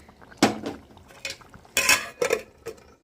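A lid goes onto a curry pot with a few sharp metallic clanks and rattles, spaced over a couple of seconds, close and fairly loud against a quiet kitchen background.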